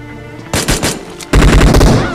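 Rapid bursts of gunfire from a barrel weapon in the mobile battle royale game BGMI, loud and close, with a short volley followed by a longer sustained string of shots.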